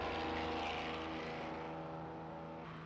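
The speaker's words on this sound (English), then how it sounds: "The diesel sounds a lot different, and you hear the engines a lot more grumbly and groany" Diesel Le Mans prototype engine in a racing video game, a steady grumbling, groaning drone with dense low harmonics, held loud and continuous through the whole stretch with no voices.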